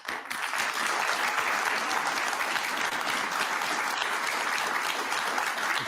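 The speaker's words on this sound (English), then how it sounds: "I kept the entire applause in there" Sustained audience applause, a dense, steady wash of many hands clapping at once, loud and even throughout without a break or any talk over it.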